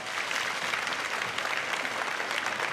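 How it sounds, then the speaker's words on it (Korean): Dense, steady applause from a large church congregation for a young adults' group, many hands clapping continuously at an even loud level with no break. "우리 다시 한번 일청년부를 향해서 큰 박수로 격려하도록 하겠습니다."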